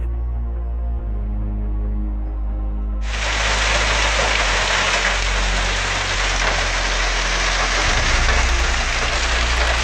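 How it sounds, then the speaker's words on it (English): Heavy rain from a rainstorm pours down over flooded roadways in Missouri. A low rumble gives way after about three seconds to a sudden, steady, loud hiss of rain that continues to the end, with no voices. "It started late last night as a rainstorm."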